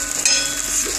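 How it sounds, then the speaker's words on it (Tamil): Potato pieces fry on a tawa over a medium flame, giving a close, continuous sizzle with a soft scrape of stirring near the start; nobody speaks. "மீடியம் ஃப்ளேமில் வச்சு இதை நல்லா ஃப்ரை பண்ணணும்."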